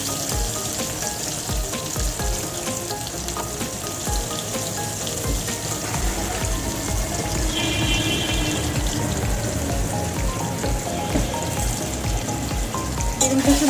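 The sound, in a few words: eggplant frying in a pan with salt and turmeric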